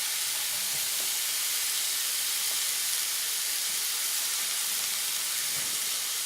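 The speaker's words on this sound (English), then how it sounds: "We're going to set it in our frying pan and listen to the sizzle." Bacon-wrapped steak sizzles steadily in a frying pan, a loud, continuous hiss with faint crackles, heard alone with no talking.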